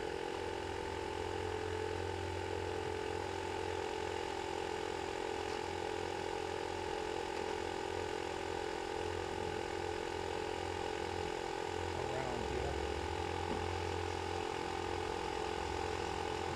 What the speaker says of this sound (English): While that compressor's recharging